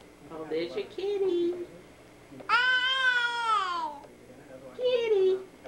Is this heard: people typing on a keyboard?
no